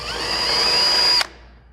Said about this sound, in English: This is about as big as I'm going to go with the drill bit